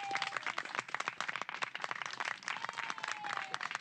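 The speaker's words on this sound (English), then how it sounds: "Let us give a round of applause to our host" A small gathering in the 1970 film Maidstone applauds its host with brisk, dense, continuous clapping that stays faint and distant, with no speech over it.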